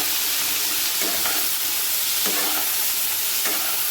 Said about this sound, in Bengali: আলু, বেগুন আর মূলো এগুলো সব ভাজা হয়ে যাওয়ার পরে আমি এখানে মুসুরিটাও ধুয়ে দিয়ে দিচ্ছি, এটাও ভালো করে ভেজে নেব